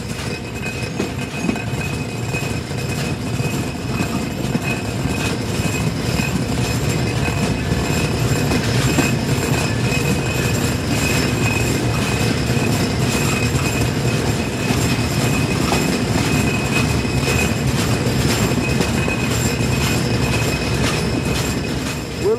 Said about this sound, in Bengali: ফরিদপুর রেলওয়ে স্টেশনে একটি মালবাহী ট্রেন দাঁড়ানো রয়েছে।